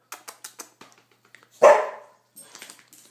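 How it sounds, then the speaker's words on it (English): A boxer dog lets out one loud, close bark among a series of softer short yips and whines in a quiet room. "What are you barking about?"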